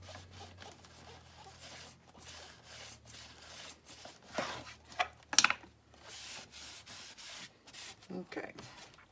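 Paper is burnished along a fold by hand, producing faint, irregular rubbing and swishing strokes, with a few sharper scrapes midway and short pauses between passes.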